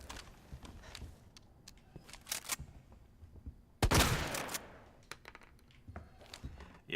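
Scattered gunshots and impacts in the Resident Evil One Shot demo, a few sharp cracks early then one loud blast with a rough tail, followed by lighter clicks and thumps.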